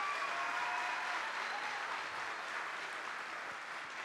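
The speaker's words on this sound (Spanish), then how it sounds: "para quien pido un fuerte aplauso, señores, esta noche" A hall audience applauds the president of the Dominican Republic at a national youth awards ceremony, dense sustained clapping from many hands, steady and moderately distant, fading slightly toward the end.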